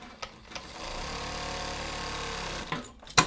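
Sewing machine running a gathering stitch on a child's shirt, a steady mechanical whir lasting a couple of seconds, bracketed by brief clicks and a sharp knock near the end, close and moderately quiet.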